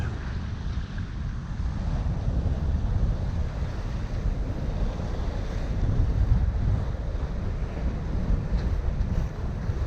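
Wind gusts and waves wash steadily around a sailboat under sail in open water, a continuous broadband rush with heavy wind buffeting on the microphone and no talking.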